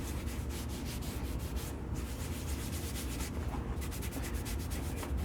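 Gritty, fairly fine finish rubbed by hand onto a turned live-edge cedar vase, making a continuous close scrubbing sound with a rhythmic back-and-forth pulse and no talking.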